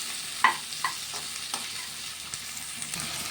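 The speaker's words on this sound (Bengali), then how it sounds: "আরও সুন্দর করে ভেজে নেবো যতক্ষণ না কাঁচা গন্ধ যায়।" Tomatoes with a little salt fry in a pan while being stirred, making a soft, continuous sizzle broken by a few light scrapes and clicks of the spatula near the start. No one speaks.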